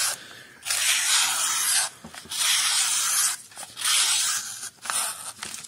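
A Ruike P155 folding knife slices through material in three or four long, rasping strokes, each a broad hissing scrape separated by brief pauses, heard up close with no talking.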